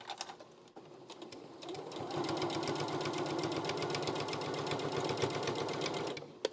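A domestic sewing machine stitches steadily in a quiet studio, a fast, even mechanical whir and tapping that starts softly, holds a constant rhythm for about four seconds, then stops.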